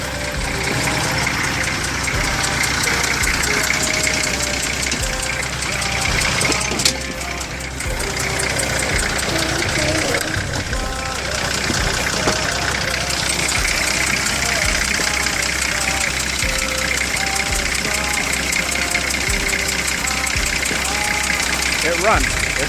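A car engine runs steadily at idle nearby, a constant loud mechanical hum with a faint knocking rhythm, while someone talks over it.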